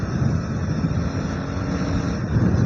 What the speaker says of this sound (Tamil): காற்று தள்ளுதுப்பா.